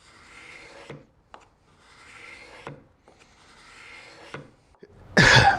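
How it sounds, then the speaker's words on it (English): A hand scraper works across bloodwood and maple on a mallet in a woodshop, giving three long rasping strokes, each ending in a short scratch, followed by a loud, harsh burst at the end. "I'm going to take my scraper and start scraping the material away from off of here"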